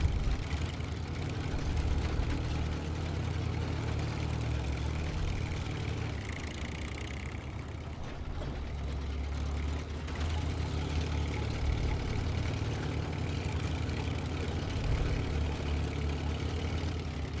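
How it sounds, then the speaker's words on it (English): A Dearborn Model H truck engine in the video game SnowRunner drones steadily, a low heavy rumble holding at an even pitch throughout with a slight dip midway and no talk. "It seems to have the same engine noise from it."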